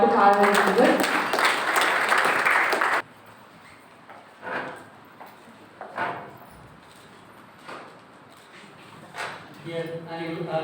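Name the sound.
audience applause at graduation ceremony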